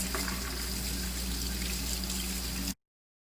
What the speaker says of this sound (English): And now you can rinse.